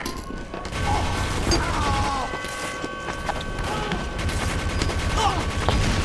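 Bursts of rapid gunfire and a few heavier shots from a Team Fortress 2 match, close and fairly loud in dense volleys, mixed with clanks and faint voices in the background.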